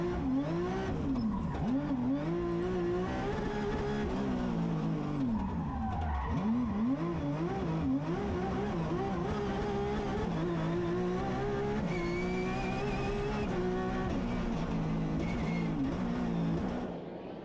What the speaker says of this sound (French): Très belles images de la Porsche de Van Parijs et Hendricks